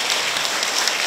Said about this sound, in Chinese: 借大家掌声再次的谢谢